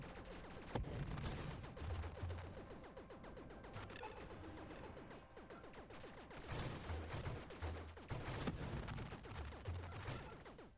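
Counter artillery weapon in the space shooter Nova Drift fires repeatedly in rapid bursts, a dense run of gunfire-like shots with low thuds over game music, loud and continuous with stronger volleys near the end.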